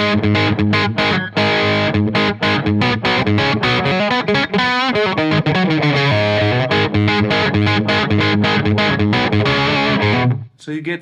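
An electric guitar through a Marshall JCM900 amp with the gain cranked plays loud, distorted, densely strummed chords and riffs, continuous and close, ending abruptly.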